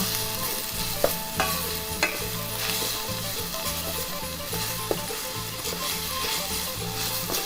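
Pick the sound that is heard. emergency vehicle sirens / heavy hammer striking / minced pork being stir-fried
minced pork being stir-fried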